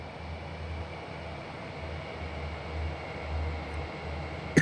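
A train rumbles along in Train Sim World through snow and ice, a steady low-pitched drone and hiss with a faint pulsing throb, continuous and fairly quiet, with no talking.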